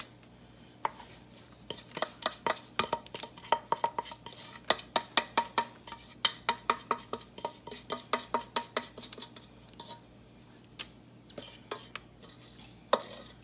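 Brownie batter with cranberries and pecans is scraped from a bowl into a baking dish, a run of close, sharp taps and scrapes of utensil on dish, fading into a few isolated knocks.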